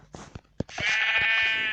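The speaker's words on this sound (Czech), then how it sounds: "Celý den tady budu honit ovečku." A Minecraft sheep gives one drawn-out bleat, preceded by a few short clicks and thumps of in-game movement.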